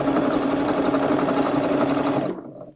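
Sewing machine stitching on its longest stitch setting while tacking a tote bag, a close, fast, even mechanical whir that runs steadily and then stops near the end.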